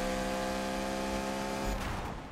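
A Need for Speed race car engine drones loudly and steadily near 10,000 RPM in a tunnel, then fades toward the end, with no one talking.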